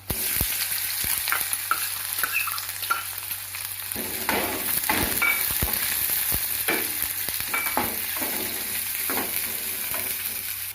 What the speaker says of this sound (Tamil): ஃபஸ்ட்டு பெரிய வெங்காயத்தை போட்டு நல்லா வதக்கிக்கலாம்.